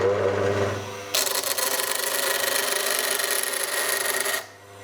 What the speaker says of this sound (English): This is a blade from a steel saw. Let me get a burr on that.